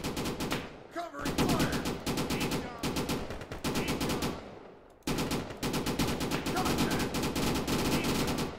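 Rapid, sustained bursts of automatic covering gunfire in the WWII shooter Easy Red 2 at the Battle of Anzio, loud and continuous with a brief pause midway, then resuming in dense rattling volleys, with faint voices underneath.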